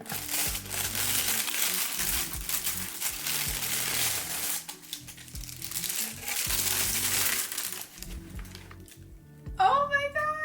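Paper crinkles and crumples in loud, dense rustling bursts while Miu Miu sneakers are unboxed, with short pauses between handfuls and a brief sharper rustle at the end.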